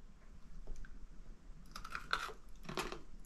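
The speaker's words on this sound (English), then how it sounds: "Peanut brittle is supposed to be crunchy." Crisp crunching bites of peanut brittle, a few loud bursts close to the mouth, with quieter chewing between.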